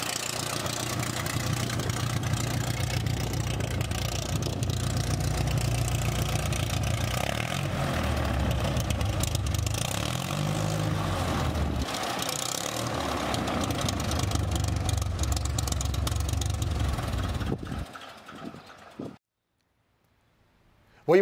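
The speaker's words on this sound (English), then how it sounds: "start the engine for the first time, and do my first taxi" A Pitts S-1E aerobatic biplane's propeller engine runs steadily at idle while taxiing, with slight changes in pitch for a long stretch, then cuts off abruptly into near silence.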